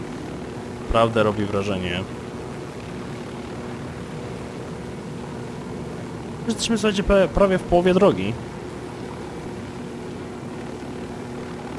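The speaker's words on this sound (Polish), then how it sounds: "Ten śmigłowiec troszkę nawet zapiernicza" A constant droning rotor and engine hum of a helicopter in the video game Ghost Recon: Wildlands runs underneath throughout, while someone talks over it in two short bursts.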